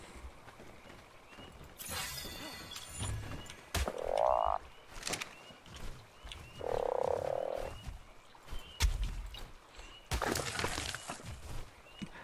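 Frogs croaking in the video game ARK, several separate croak bursts spread over a noisy stretch with other game sounds and occasional clattering, fairly loud and close.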